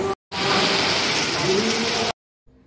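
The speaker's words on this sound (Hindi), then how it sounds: "बारिश तेज़ हो रही है" Heavy monsoon rain pours steadily, a dense, loud wash of close hiss lasting about two seconds between abrupt cuts of silence.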